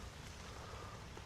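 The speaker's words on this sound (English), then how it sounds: "Oh, it's starting to rain again." Rain begins falling outside a backyard greenhouse in Wisconsin, a faint, even hiss of drops with no voices.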